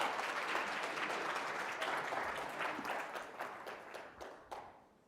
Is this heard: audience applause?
yes